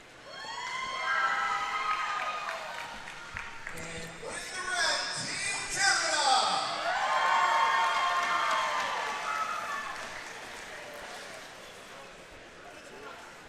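Arena crowd at a roller derby world cup game, Australia against Canada, cheering and shouting loudly with high excited voices and whoops swelling in the middle, while an announcer talks over it.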